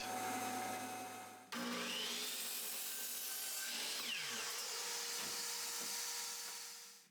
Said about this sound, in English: First, I'm going to split my board in half and rip one half to 7 inches